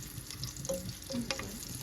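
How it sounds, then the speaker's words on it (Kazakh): Pieces of a quick egg-and-cabbage snack gently browning in a pan, a soft, low sizzle with faint scattered clinks, close and quiet, no talking. "Осылай екі жақ бетінен ақырындап қызартып қуырып аламыз"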